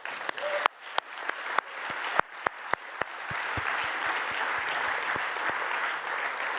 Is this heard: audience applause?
yes